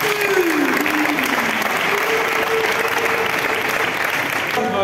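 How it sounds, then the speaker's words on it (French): Steady, dense applause from an audience at a gratification ceremony, clapping evenly and loudly throughout, with a faint whistle-like tone drifting above the crowd. "Est-ce qu'on peut acclamer pour nous-mêmes?"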